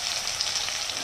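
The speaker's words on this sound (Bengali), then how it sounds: "এই পেস্টটা দিয়ে দিচ্ছি, দিয়ে এবার তেলের উপর একটু ভাজা ভাজা করে নেব" Ground spice paste sizzling in hot oil in a pan, a loud continuous close hiss of frying with no voices.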